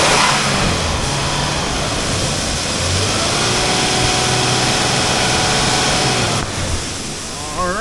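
The 4.0L 1GR engine of a 2005 Toyota Tacoma PreRunner 4x2 runs loud and steady, a dense, even drone close by that holds for the whole stretch and eases slightly near the end.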